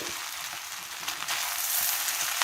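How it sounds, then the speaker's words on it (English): Egg fried rice being stirred in a pan gives a continuous crackling sizzle that swells slightly toward the end, with no talking. "you want to continue to move that rice around"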